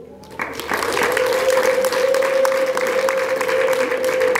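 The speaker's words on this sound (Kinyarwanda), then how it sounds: "muryango mwiza wo kwa Joel, nagira ngo mumuhe amashyi kandi mumuhe impundu" Guests at a Rwandan wedding break into loud applause after a short quieter opening, with a high sustained ululation held over the clapping for several seconds.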